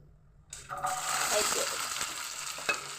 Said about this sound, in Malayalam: ഞാൻ മുക്കാൽ കിലോ ഉള്ള വെളുത്തുള്ളിയുണ്ട് അത് ഈ എണ്ണയ്ക്കകത്തൊന്ന് വാട്ടിയെടുക്കാം